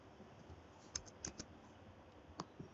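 Typing on a computer keyboard, a few sparse soft clicks in small clusters over a quiet background.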